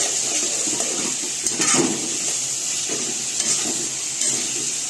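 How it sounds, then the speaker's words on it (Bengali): Onions crackle and sizzle steadily in a hot pan while a spoon scrapes and stirs them in occasional bursts, close and even in volume. "এগুলো একটু ভেজে নিব তো ভালো করে এগুলো কিন্তু নেড়ে নিচ্ছি"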